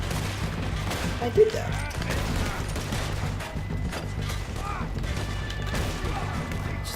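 Gunfire in the video game Red Dead Redemption 2, a faint sharp shot near the start over a low steady game ambience, with someone talking over it.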